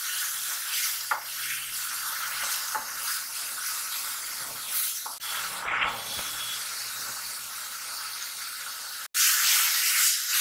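Onions frying in a pan for restaurant-style shahi paneer, giving a steady broadband sizzle and hiss throughout with a few faint utensil scrapes, ending in a sudden louder burst of sizzling.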